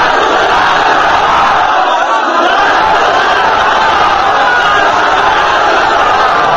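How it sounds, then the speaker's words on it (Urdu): A large, loud crowd at a religious gathering roars the slogan Ya Rasool Allah Zindabad in unison, a dense, continuous wall of massed voices filling the whole stretch. "تو زور سے نعرہ مارے یا رسول اللہ زندہ باد"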